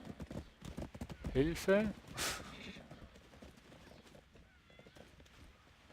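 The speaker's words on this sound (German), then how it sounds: "Oh, ein Esel." Donkey hooves clip-clop in a stable scene of the video game Black Desert Online, a quick run of close hoofbeats followed by a whinny-like call, with a brief spoken word in the middle before things settle quieter.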